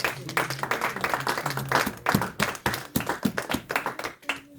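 A church congregation claps together in acclamation of God, a dense run of rhythmic, fairly close hand claps with faint voices beneath, holding steady for several seconds before thinning out.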